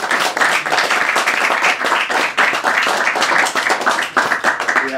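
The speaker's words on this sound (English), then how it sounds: "Let's give the poets another round of applause" An audience at a hybrid poetry reading for Slate Roof Press poets gives a steady round of applause, dense crowd clapping that stays loud and even throughout with no talking over it.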